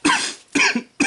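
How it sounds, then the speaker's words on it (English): Three harsh coughs in a row, close and loud, separated by short pauses. "I'm sorry for the coughing fit."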